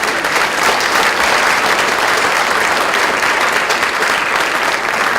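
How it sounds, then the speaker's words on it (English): Sustained applause from an audience honoring students at a school honors ceremony, steady and full throughout with no talk over it. "Let's give these students a round of applause"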